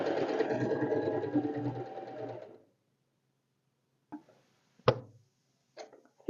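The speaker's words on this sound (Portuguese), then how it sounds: "Até chegar ali na bordinha, a gente precisa costurar." A sewing machine stitches a sleeve, running steadily at close range for a couple of seconds and then stopping, followed by a few small clicks and handling taps.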